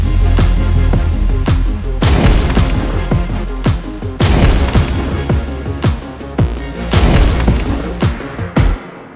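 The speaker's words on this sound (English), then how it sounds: "and then spawn an explosion" Spell explosions go off one after another in a VR mod of Hogwarts Legacy, as loud booming blasts spaced about two seconds apart, each with a rumbling tail.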